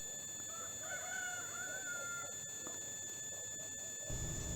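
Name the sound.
rooster crowing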